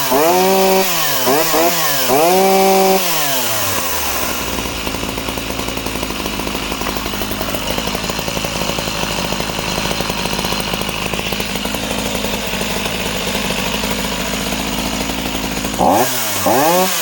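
An Echo CS-60S chainsaw starts with a few rising pulls and sputters, then catches and runs at a loud, steady idle close by for over ten seconds before cutting off abruptly.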